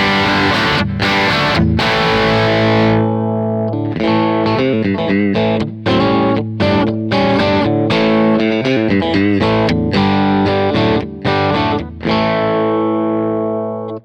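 An electric guitar played through a Kemper amp profile set to mid-gain distortion rings out in loud sustained chords and short choppy strums, with brief gaps between phrases and no talking.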